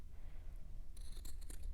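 Quiet, close scissors make a few quick snips while trimming a fabric seam allowance and corners on a small sewing project, with crisp blade clicks clustered near the end.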